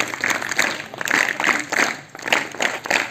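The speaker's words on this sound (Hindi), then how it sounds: "इसलिए 3 तालियां बजाएं।" Scattered clapping from a classroom of students rewarding a correct quiz answer, several bursts of claps in quick succession, fairly close and unaccompanied by talk.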